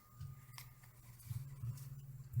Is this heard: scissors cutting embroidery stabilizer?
yes